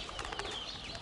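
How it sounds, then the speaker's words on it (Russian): Marbled pigeons flap their wings as they take flight, a quick flurry of soft feathery beats against a faint outdoor background with no talking. "Все небо в голубях."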